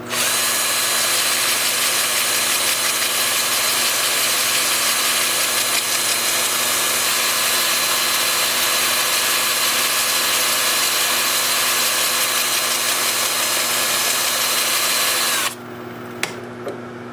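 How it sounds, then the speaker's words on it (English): A wood lathe spins in reverse at about 350 rpm, a loud, steady motor whine and hum with a high-pitched tone that runs unbroken until it cuts out near the end, leaving a few faint knocks. "Then with the lathe spinning in reverse at about 350."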